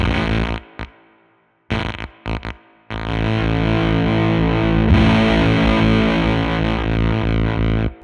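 Gated fuzz guitar through a Benson Deep Sea Diver Fuzz-Echo pedal with a dying battery, bias at noon and gate maxed: choppy bursts cut to silence at first, then a loud, sustained, buzzing chord that rings on.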